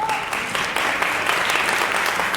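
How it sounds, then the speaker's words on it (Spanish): A church congregation applauds in praise, dense steady clapping filling the whole stretch at close range with no voices over it. "Denle un aplauso al Señor."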